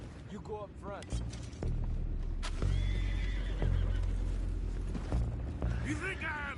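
Horses in Red Dead Redemption 2 whinny several times close by, with clip-clopping hooves and low rumbling thuds beneath, while voices talk over them.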